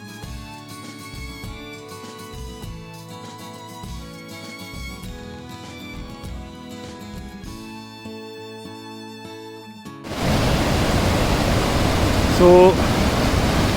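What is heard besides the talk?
mountain stream water flowing down from a lake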